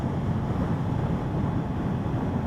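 Steady roaring wind buffets the microphone of a Kawasaki Ninja 650 on a ride near Gulf Shores, a dense low rumble that stays constant and loud throughout with no break.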